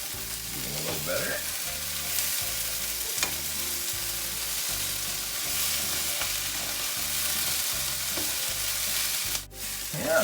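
Sausage browns in a frying pan for a frittata: a steady sizzle close by, broken by regular scraping and stirring strokes of a utensil against the pan, with no talk over it.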